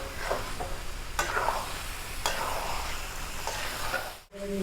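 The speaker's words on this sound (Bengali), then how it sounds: "মাছের মাথাটাকে নাড়িয়ে চাড়িয়ে নেব।" A fish head frying in a pan is stirred with a spoon, giving a close, steady sizzle broken by several scraping stir strokes, then a brief drop to near silence near the end.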